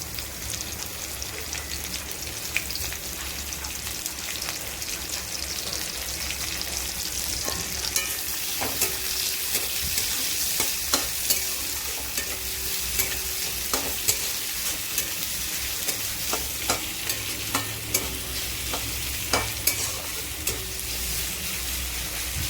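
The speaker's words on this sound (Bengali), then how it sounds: "রসুনটা একটু ভাজা ভাজা হয়ে গেলে ওর ভেতরে পেঁয়াজ কুচি দিয়ে দেবো" Garlic and chopped onion frying in a pan for a prawn chutney, a steady hissing sizzle with irregular clicks and taps of a utensil stirring, close and continuous throughout.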